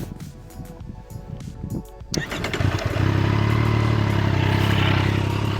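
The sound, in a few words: Triumph Street Triple S motorcycle engine running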